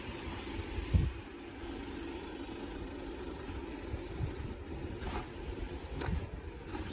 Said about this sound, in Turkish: Hop, araba geliyor